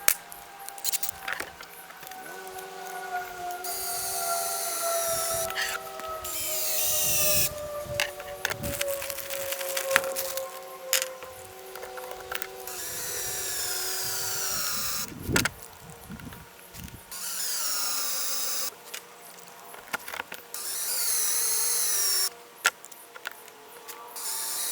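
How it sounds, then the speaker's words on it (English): A power drill driving fittings into PVC pipe whirs in repeated bursts, its motor pitch sliding down under load, with short pauses and plastic creaks between runs. "throw this on the drill, helps screw these into the PVC pipe"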